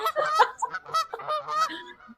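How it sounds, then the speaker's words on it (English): Geese honk in a rapid, loud run of nasal calls as a sound effect, close up and alone with no voices. "It's just geese."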